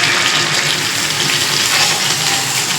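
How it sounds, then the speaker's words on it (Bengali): Hot water poured from a vessel into meat cooking in a pot, a steady, close splashing gush lasting a few seconds with no talk over it. "জল গরম হয়ে গেছে, এবার আমি মাংসের মধ্যে জল দিয়ে দেবো।"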